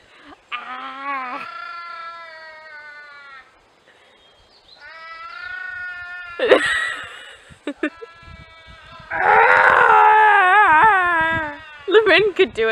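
A person mimics a cat's meow with drawn-out, wavering vocal cries that rise and fall, repeated several times with pauses, alongside other speech.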